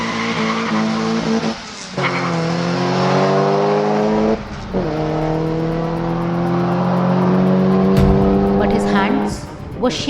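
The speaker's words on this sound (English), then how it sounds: "desperate to start the car and drive away" A car engine catches and revs, then accelerates away with rising gear whines and a brief tire squeal, loud and close, set in a horror audio story.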